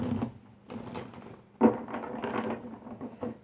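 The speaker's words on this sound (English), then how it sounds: "One last shuffle." Spencer Gifts tarot cards are shuffled by hand, soft papery riffling and flicking in uneven bursts, close and fairly quiet, with a brief pause before a second longer shuffle; no one speaks.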